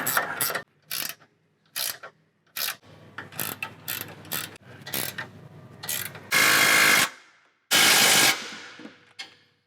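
Hand tools ratchet and click as nuts and flat and split washers go onto the bolts of an Ironman 4x4 front winch bumper on a 2022+ Toyota Tundra. Bursts of mechanical clicking and whirring come close and loud, separated by short pauses.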